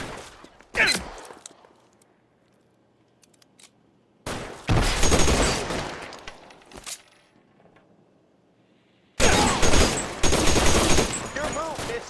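Bursts of gunfire in the video game L.A. Noire: a brief shot early, then two long dense volleys of rapid shooting separated by near silence, loud and close, with some voice mixed in.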